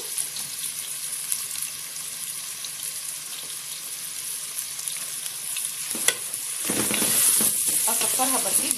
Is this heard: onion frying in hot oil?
yes